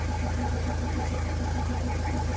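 A Toyota BJ40 diesel engine idling smoothly after a cold start, a steady close rhythmic low chug with an even diesel clatter and no talk.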